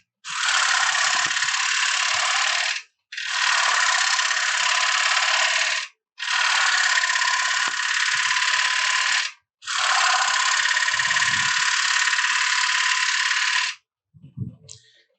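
Wood lathe push cuts on the bottom of a turned wooden platter: four long, steady, loud bursts of hissing shaving noise with short gaps between them, ending in a few faint knocks.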